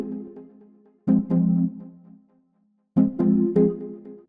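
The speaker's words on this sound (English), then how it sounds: "Synth Every is a soft sine synth," Synth Every, a soft sine synth, plays minimal house chords: two warm, rounded chord stabs a couple of seconds apart, each with a short rhythmic flutter before fading, mellow and clean.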